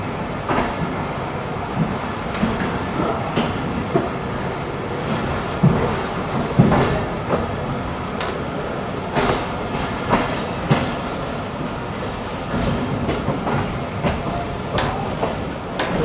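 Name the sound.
train departing from Wazirabad railway station, Pakistan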